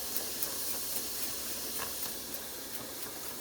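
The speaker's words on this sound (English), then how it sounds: "So I use a spray bottle. So I spray it." A steady airy hiss fills the clip, with faint repeated spritz-like bursts from a spray bottle spraying water to make steam for baking sourdough bread, fairly quiet and close.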